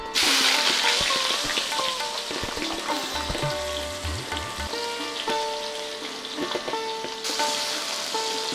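Chopped onions hitting hot spiced oil in a pan, a loud close sizzle that settles into steady frying with occasional stirring knocks, no voices.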